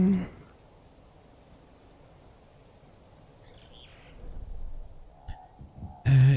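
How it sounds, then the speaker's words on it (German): Crickets chirp steadily in the night ambience of the video game Ghost Recon Breakpoint, a fine, regular high trill running throughout, with brief louder game sounds at the start and end. "Ich höre zirpende Grillen. Mhm, die zirpen, die Grillen."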